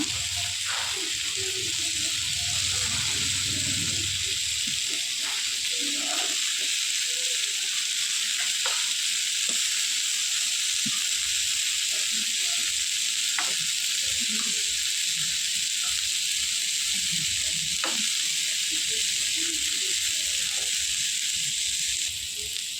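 Chicken tandoori tikka sizzles steadily in a pan, a continuous bright frying hiss with occasional pops and faint stirring scrapes throughout, no voices.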